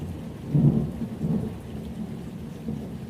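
Low thunder rumbles in a couple of swells over a steady patter of rain, soft and somewhat distant.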